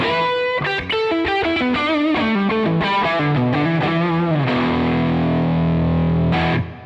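A Les Paul's neck humbucker drives a Plexi amp into thick distortion, with reverb and delay: a quick run of picked notes, then a sustained chord that rings out loudly before cutting off abruptly. No voices.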